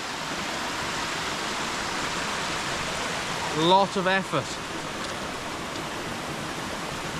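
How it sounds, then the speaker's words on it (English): Small waterfall in Clocaenog Forest, a steady soft rush of falling water, with someone speaking briefly over it partway through. "it's technically a waterfall, I'll give it that"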